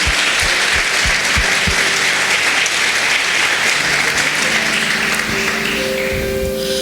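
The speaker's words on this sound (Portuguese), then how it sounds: "Dê uma salva de palmas para esse Jesus lindo." A church congregation claps loudly in sustained applause, with a few sharp louder claps near the start and a steady dense roar throughout. Faint voices and sustained background tones sit under it.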